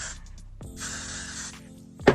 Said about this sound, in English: I'm just spraying a little bit, not too much, because you don't want a crunchy lace